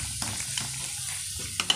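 Pork frying in a pan for adobong sitaw, a steady close sizzle with small crackles and a couple of brief utensil clicks near the end.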